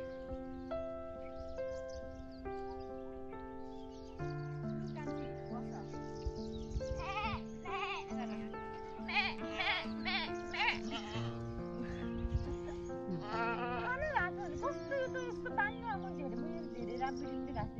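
Goats bleat repeatedly on a grassy hillside, wavering cries layered with a steady musical tone, moderately loud and close.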